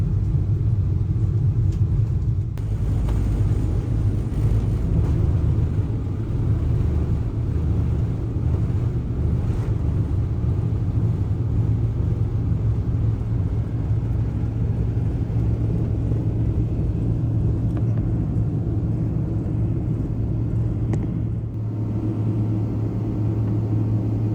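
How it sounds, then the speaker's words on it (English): An ANA airliner on its takeoff run, heard from inside the cabin: a loud, steady low rumble of engines and runway roar that holds throughout, with no talking. "Finally, we reached the runway. Captured the moment of takeoff on camera."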